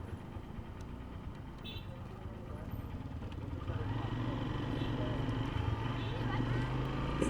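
Several motorcycles ride together in the evening, their engines a steady, rumbling drone that grows louder partway through, with wind and road noise throughout.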